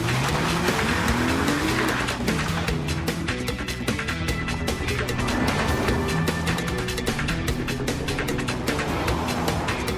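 A 2013 Lexus GS350 sedan on a test drive, the engine note climbing and falling through gears with continuous road and wind roar and a faint tire squeal, loud and close throughout.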